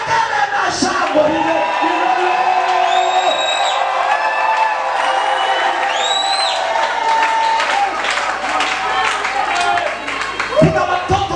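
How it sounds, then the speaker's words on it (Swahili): A church congregation at a deliverance service cheers and ululates, a dense, loud crowd roar with high trilling whoops rising above it, sustained throughout with a brief dip near the end. "Vigelegele na shangwe."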